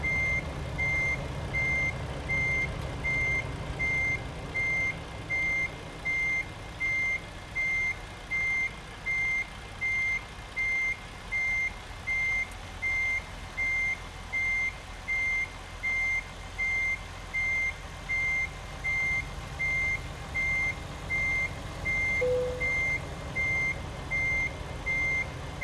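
Steady, evenly spaced reversing beeps ring out from a big rig backing up in American Truck Simulator, a sustained rhythmic beeping over a low engine rumble with no talking.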